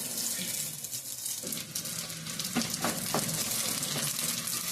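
Cooked rice is stirred into a pan of fried tempering for egg rice: a steady close sizzle runs throughout, with a few scraping strokes of the spoon partway through.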